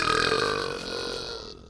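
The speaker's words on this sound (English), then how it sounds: "listen to this burp from the gnome" A gnome's burp from the movie Elf, one long, loud, rumbling belch that stretches over more than a second and then cuts off abruptly.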